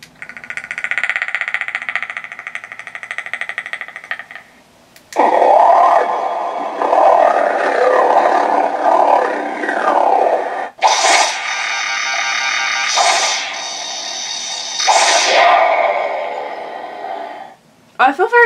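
Predator movie creature sound effects played back through a TRamp Trooper Amp helmet comm system speaker: loud, processed growls, roars and rattling clicks in several long bursts separated by short gaps, with no talking.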